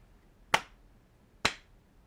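Two sharp, separate hand claps about a second apart, close and crisp against near silence, made as an audio sync test.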